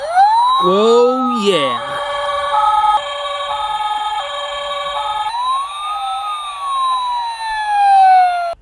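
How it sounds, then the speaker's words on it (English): Toy fire truck with buttons that play fire engine siren effects: electronic wailing tones rise and fall continuously for several seconds, close and loud, with a brief excited voice early on. "there's also some buttons to get some fire engine sounds"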